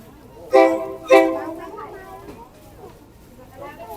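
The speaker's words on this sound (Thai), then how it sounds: "รถไฟมานะครับ" A train approaching at the Maeklong railway market sounds two short, loud horn blasts in quick succession, followed by a fainter rumble, with a voice talking nearby.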